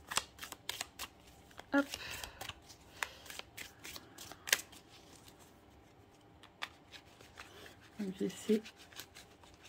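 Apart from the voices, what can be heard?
shuffling tarot cards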